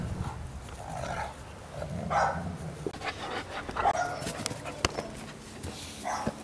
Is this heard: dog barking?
yes